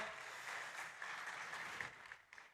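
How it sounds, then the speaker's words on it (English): Faint applause for a startup competition pitch at an industry event, a soft, steady patter of many hands that thins out toward the end. "big applause for Diogo"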